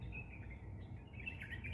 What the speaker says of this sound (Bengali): আশেপাশে পাখির কিচিরমিচির শব্দ।